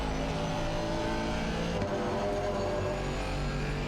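An Aston Martin Vantage GT4 in the ACC racing game at Barcelona drones with a steady, close engine note that shifts abruptly midway as the revs change on track.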